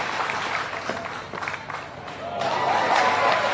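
A stadium crowd at a junior athletics championship claps and cheers through the final round of the triple jump. The applause is steady and moderately distant, swells near the end, and a commentator talks over it.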